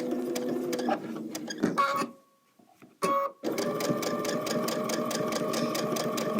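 A domestic sewing machine stitches a quilt block seam with a fast, steady mechanical whirr and needle clatter, pauses briefly into near silence, then restarts and runs evenly to the end.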